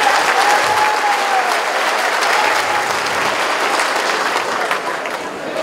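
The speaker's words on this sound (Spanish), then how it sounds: "pido que le brindemos fuertes aplausos al Instituto Nacional de" A dense wash of crowd applause fills the air at the opening ceremony of a regional Mixe sports championship in Mexico, loud and sustained for several seconds before easing slightly at the end.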